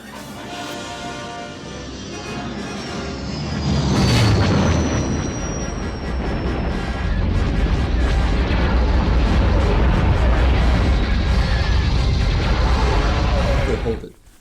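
A big spaceship chases a smaller one and fires on it, a film sequence of booming blasts, roaring engines and laser-like whines that is loud and continuous and builds into heavy explosions.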